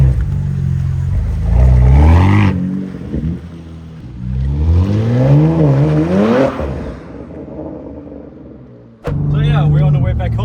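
BMW M3 G80 fitted with a Valvetronic exhaust, revving and accelerating in rising engine sweeps with a brief break, heard from close by with people talking over it.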